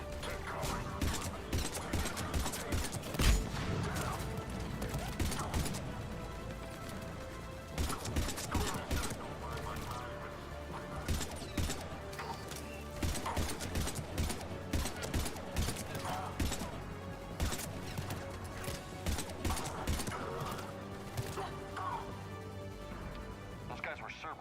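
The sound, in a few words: gunfire in the video game Mass Effect 3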